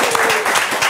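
Audience at an Estonian music meet-and-greet evening breaking into applause, a dense patter of many hands clapping steadily at moderate volume, with a voice briefly audible underneath.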